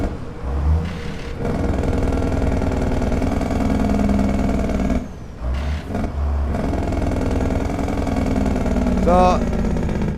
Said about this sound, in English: I love this engine, but it's really turbo laggy